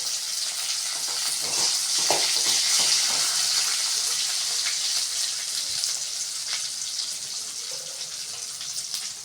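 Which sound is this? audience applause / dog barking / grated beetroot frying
grated beetroot frying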